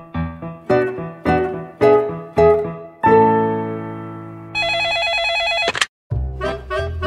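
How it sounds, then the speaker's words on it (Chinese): An old-style telephone bell rings in a cartoon drink shop, in repeated loud bursts with short gaps, then a long sustained ring and a final rapid jangle, alone without talk. "熊哥接到一通隔壁村猪小妹打来的电话。"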